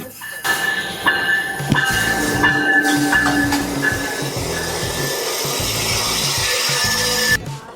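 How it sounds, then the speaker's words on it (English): A Coaster commuter train bound for San Diego rumbles steadily at a station, a broad continuous roar with a faint high whine and scattered clanks, fairly close and alone without talk. "So that's our train back to San Diego."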